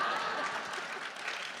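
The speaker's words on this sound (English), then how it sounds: "Oh, is that applause and encouragement to sing it?" Audience applause at a live conversation event, a brief steady wash of clapping from a crowd that fills the room at moderate loudness.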